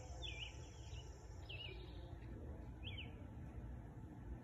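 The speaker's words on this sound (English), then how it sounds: "I love hearing these little birds out here." Small birds chirp outdoors in short, thin, high calls that repeat every second or so, faint over a steady low rumble of background noise.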